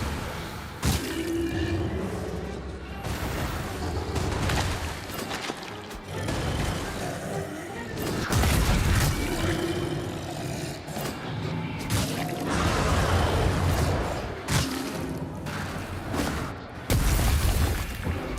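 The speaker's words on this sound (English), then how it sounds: "pop down here, Throw a couple of grenades" Grenades exploding in a video game, repeated heavy booms with whooshing bursts and mechanical effects, loud and close across the stretch.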